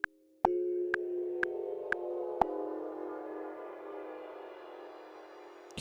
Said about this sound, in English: You can hear it pitching up. So that's the sort of shimmer that it can do.